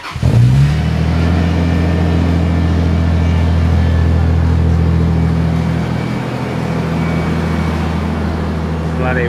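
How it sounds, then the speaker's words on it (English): A Toyota LandCruiser 80 engine starts up for the first time through a newly fitted exhaust, catching quickly and settling into a loud, steady, deep idle with a slight drop in level midway. "Exhaust is in. First startup. See how she sounds."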